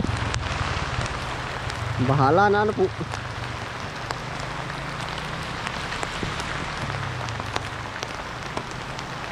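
Steady rain patters on a surface close by, a dense continuous hiss of drops, with a brief spoken phrase early on.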